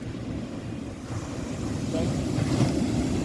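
Strong sea waves surge and break at Puri beach on a sunny day, a steady close roar of surf with wind buffeting the microphone and a rising wash near the end.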